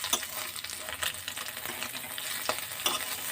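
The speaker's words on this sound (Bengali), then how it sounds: "বন্ধুরা, এই দেখুন মাছগুলো হালকা ভাজা হয়ে গেছে। এবার আমি একটু উল্টে দেবো।" Small mourala fish sizzle in hot oil in a pan for a plum chutney and are turned gently. Steady crackling frying runs throughout, with sharper scrape-and-stir clicks now and then, close and alone.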